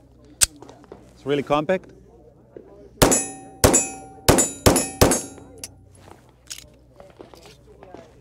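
Several sharp, loud 9mm pistol shots from a Rock Island Armory SDK 150 at an outdoor range day, fired in a quick irregular string of about five or six, with someone speaking briefly beforehand and faint background chatter.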